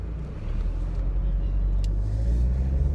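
Low, continuous rumble of cars on a Cardiff road before dawn, one vehicle swelling slightly louder midway, with no voices.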